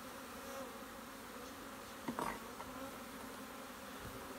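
Honeybees buzzing steadily nearby at a hive, a continuous droning hum with a brief louder burst midway, no voices.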